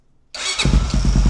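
Honda 400EX ATV engine cranks briefly, then catches and settles into a steady, throbbing idle, loud and close, with a slight exhaust leak.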